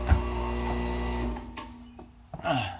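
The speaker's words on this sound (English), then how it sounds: "Let me turn this compressor off." A garage air compressor hums steadily, then cuts off partway through, leaving faint clicks and rattles with a brief clatter near the end.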